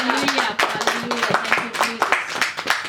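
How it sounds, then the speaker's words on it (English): A church congregation claps together during a sermon, a dense run of hand claps with a sustained voice or tone underneath throughout. "Let's clap for the glory of the Lord"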